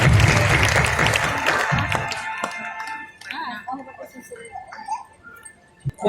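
Audience applause at a golden jubilee church felicitation ceremony, a loud burst of clapping from a crowd that fades after a few seconds into scattered claps and talking voices.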